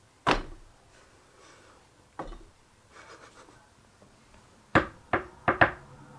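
Sharp knocks struck on something to imitate a knock at a door: a single rap, a second lone rap, then a quick cluster of four close raps near the end, with quiet gaps between.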